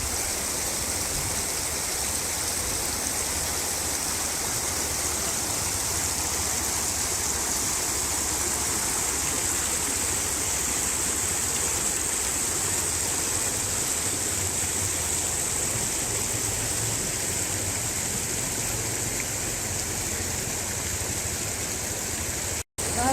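High river water rushing past in a steady, loud, broadband roar near a mountain off-road trail, continuous throughout and cutting off abruptly at the end.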